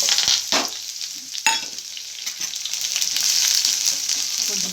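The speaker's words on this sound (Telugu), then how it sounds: "ఆవాలు వేగినాయండి, ఎర్రగడ్డ వేసుకోండి." Onions fry in hot oil with popped mustard seeds for an Andhra chicken pepper fry, a loud, close sizzle that runs throughout after a couple of sharp clatters near the start.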